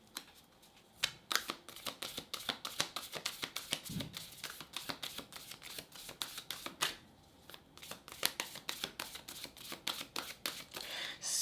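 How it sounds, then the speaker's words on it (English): A deck of Spirit Animal Oracle cards is shuffled by hand in a long, quick, steady patter of riffling card snaps, close and fairly quiet, with no talk. "Let's pull an Animal Oracle card."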